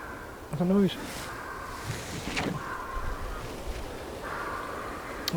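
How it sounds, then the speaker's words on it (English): An owl calls out in a grassy graveyard, a few short hooting cries rising over rustling and faint ambient noise, with people speaking nearby. "I think it's an owl."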